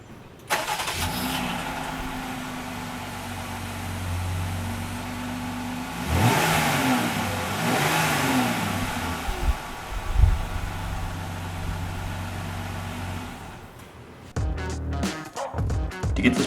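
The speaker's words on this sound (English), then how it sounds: "We're going to do a cold start with the stock exhaust and see how it sounds." A Jeep Gladiator pickup on its stock exhaust cold-starts: the engine cranks and fires up, revving loudly before settling into a deep, steady idle, then a brief rumble at the end.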